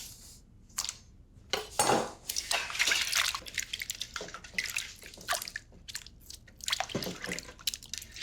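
Cut potato chips being washed by hand in a bowl of water, with irregular splashes, sloshes and drips, near and moderately loud, with short pauses between handfuls.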